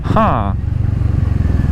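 Motorcycle ridden on a road, heard from a helmet camera: a loud, steady, throbbing low engine rumble with rhythmic pulses, preceded by a short spoken phrase from the rider.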